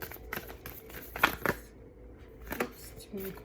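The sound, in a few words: shuffling tarot cards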